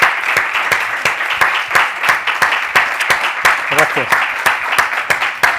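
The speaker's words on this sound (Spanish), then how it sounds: "Y un fuerte aplauso para nuestro invitado." An audience applauds a guest at a talk event with steady rhythmic clapping from a fairly small crowd; a voice briefly speaks over the clapping.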